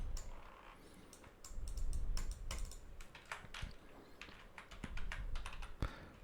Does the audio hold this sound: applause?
no